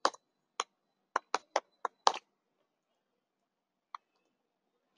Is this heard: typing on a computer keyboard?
yes